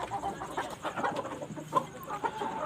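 Black Australorp breeder chickens cluck and murmur steadily while pecking at their evening feed on a rooftop farm, a continuous close flock chatter with occasional sharper calls.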